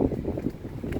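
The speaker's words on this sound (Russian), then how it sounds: "Вы посмотрите, какой сегодня ветер" Strong wind at a seaside beach on a bay buffets the microphone with a low, gusty rumble for about a second, with no other clear sounds.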